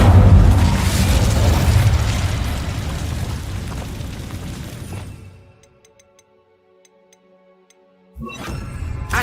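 A fiery Incendio spell in Hogwarts Legacy on PS4 Pro bursts with a loud, roaring blast that rumbles for several seconds and fades into near silence before another burst starts.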